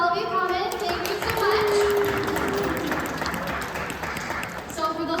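Audience applause at the first-ever Makers Eve SIC Spooktacular maker event, a steady wash of many hands clapping that fills the room for several seconds, with voices and some tonal sound mixed through it.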